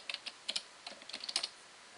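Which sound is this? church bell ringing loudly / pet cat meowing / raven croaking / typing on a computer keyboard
typing on a computer keyboard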